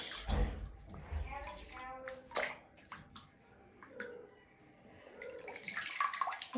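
Running water splashes and sloshes as something is wetted with a soapy mix, close and uneven, with a voice talking over it.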